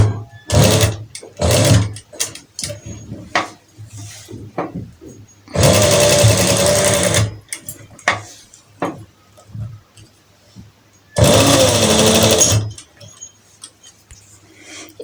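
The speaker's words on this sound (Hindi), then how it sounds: "अब इन कॉर्नर्स पर हम सिलाई के साथ इसको मज़बूत कर देंगे।" A sewing machine stitches the corners of an organza sleeve design in two sustained loud runs, with quieter handling sounds and clicks between them.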